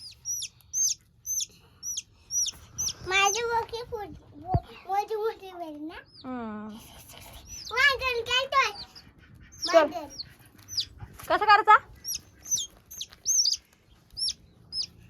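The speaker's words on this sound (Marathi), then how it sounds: "मी कोंबडी पकडतो गाईस" Chickens and chicks at a home: chicks peep in rapid high chirps throughout while hens cluck and call in louder bursts, with a voice speaking in between.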